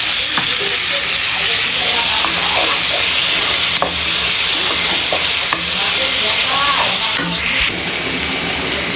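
Malabar spinach and shrimp fry and get stirred in a hot pan, giving a loud, steady sizzle with occasional scraping stirs and no voices.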